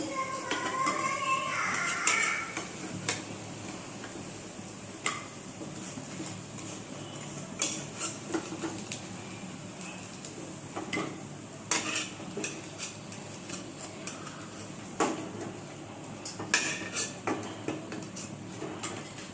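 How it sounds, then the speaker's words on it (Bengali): Fried cabbage pakoras are lifted out of hot oil with a metal utensil, making repeated light clinks and scrapes against the pan over a faint, steady sizzle. "আমার ভাজা শেষ এখন তুলে নেব"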